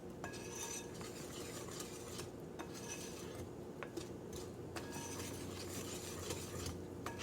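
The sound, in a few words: mixing banana granola muffin batter, dry into wet ingredients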